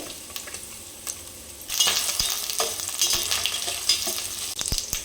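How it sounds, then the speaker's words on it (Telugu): Sliced onion goes into hot oil for Telugu-style bagara rice, a quiet background gives way to a sudden bright sizzle that keeps crackling and hissing steadily for the remaining few seconds. "ఆయిల్ బాగా వేడైంది కదండి. ఇప్పుడు ఆనియన్ వేసుకుందాం."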